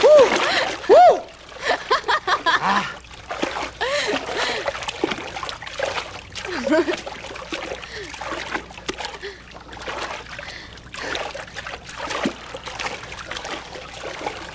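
People splash and slosh in water while bathing and swimming, with bursts of splashing and trickling under frequent voices, shouts and laughter nearby.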